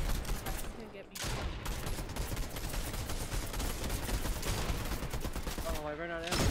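Combat AR rifle gunfire in Fortnite crackles in dense rapid bursts, nearly continuous over a short gap, with players' voices talking over the shooting.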